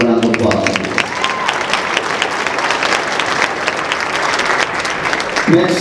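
A school assembly crowd breaks into loud, sustained applause, a dense wash of clapping that holds steady for several seconds with faint voices mixed in.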